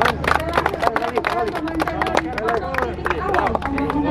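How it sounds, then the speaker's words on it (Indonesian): Applause at an official bridge inspection event between Bintan and Batam, scattered clapping from a modest crowd mixed with chatter and voices talking over it, fairly close and uneven. "Kita berikan tepuk tangan."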